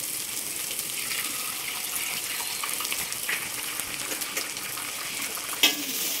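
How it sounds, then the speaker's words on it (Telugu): Eggs cracked into hot oil with capsicum and cabbage fry with a steady, even sizzle that holds at a constant level throughout, with one brief sharper clink or scrape near the end. "ఇప్పుడు ఇక్కడ గుడ్లన్నీ పలకొట్టి వేసుకుంటానండి"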